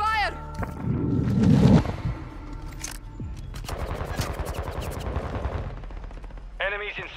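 Call of Duty Modern Warfare 2 gameplay: rapid bursts of automatic gunfire and scattered shots crackle steadily, with brief radio-style voice callouts at the start and end.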